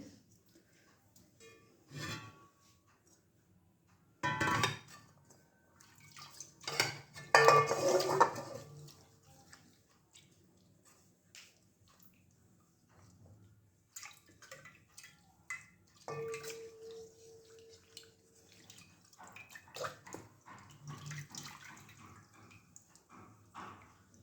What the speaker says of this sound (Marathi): मी तुम्हाला धुवून पण दाखवते किती स्वच्छ निघाली ते